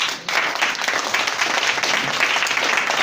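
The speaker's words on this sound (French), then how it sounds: "On acclame Jésus-Christ pour sa vie" A church congregation applauding together, a dense, steady wash of clapping that begins after a brief lull and holds loud and even throughout.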